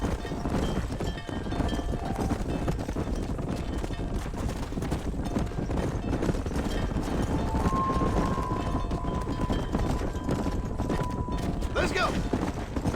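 A horse gallops in the video game Red Dead Redemption, its hooves pounding in a steady rapid rhythm beneath dense game noise, with a voice talking over it.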